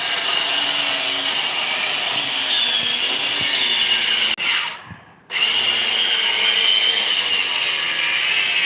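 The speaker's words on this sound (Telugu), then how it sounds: "మేమైతే ఆ బొంగులను అయితే కట్ చేసి చేస్తున్నాం చూడండి" A power tool steadily cutting through bamboo poles for a garden trellis frame, with a loud continuous whining buzz that drops out briefly midway and then resumes, and no voices.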